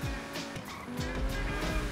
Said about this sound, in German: Alter, wie viele Autos hier sind?